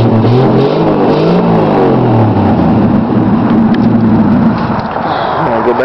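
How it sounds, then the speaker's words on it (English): A 1963 Studebaker's motor revs loudly up close, its deep engine note rising and falling in several revs that merge into a steady rumble. "I'll rev it up a few times for you so you can hear the motor."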